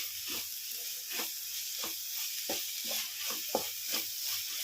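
Ivy gourd and onion masala curry sizzles in a pan, a steady hiss broken by a few soft stirring scrapes, fairly quiet and close with no talking.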